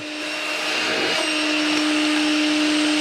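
A Makita XLC02ZB 18V cordless vacuum, floor attachment removed, spins up and settles into a loud, steady motor whine with a strong tone, close up and with no talking.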